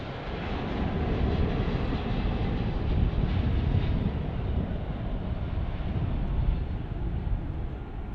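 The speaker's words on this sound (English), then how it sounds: "It's good MD-11 landing." An MD-11 airliner lands at DFW International Airport with a broad, roaring rush of engine noise. The roar is steady and fairly close and swells slightly midway, with no voices.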